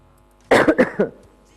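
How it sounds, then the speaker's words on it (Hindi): A single close, throaty cough in a quick burst of several hacks, alone in a quiet room. "थोड़ी बहुत खांसी हो रही है"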